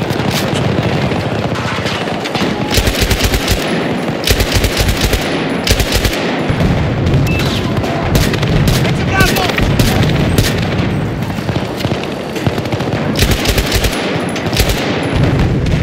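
An M240B machine gun fires in Battlefield 2042, loud sustained bursts of rapid automatic gunfire with short gaps, layered with game combat noise throughout.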